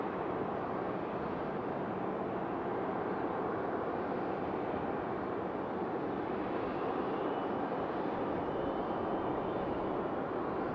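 A Southwest airliner takes off at Raleigh-Durham airport, heard as a steady, distant broadband jet roar that holds at an even level throughout, with no voices.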